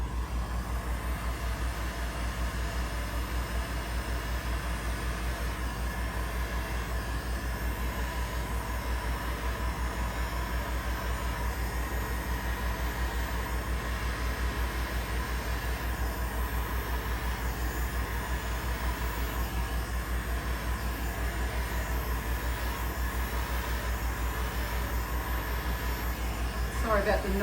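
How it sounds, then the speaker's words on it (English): A heat gun blows on paint as a steady, loud, broadband roaring hiss that runs without a break throughout. "let's hit it with the heat gun and see what happens."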